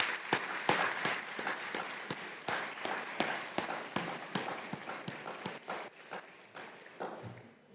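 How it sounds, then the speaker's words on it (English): An audience applauds a sponsor at a student conference keynote, with dense, steady clapping that stays close and fairly loud for several seconds before tapering off. "so please give a round of applause for Celanese for their support for us."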